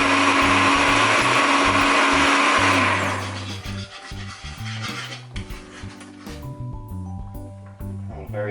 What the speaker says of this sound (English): I'm just going to immediately cut to me fully blending it